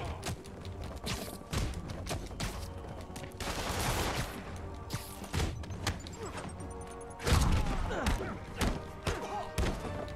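Rapid gunfire in Marvel's Spider-Man rattles in dense, irregular bursts mixed with thuds and crashes. One heavy impact stands out partway through.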